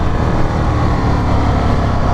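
An Indian FTR1200 V-twin motorcycle engine under way, a dense, steady low rumble mixed with wind rush that holds at a constant loud level with no pauses.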